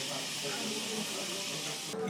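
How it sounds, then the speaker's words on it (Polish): An espresso coffee machine hisses in a restaurant, a steady close steam rush that fills the whole moment before briefly thinning at the end. "I tylko słyszę, jak ktoś jakimś ekspresem."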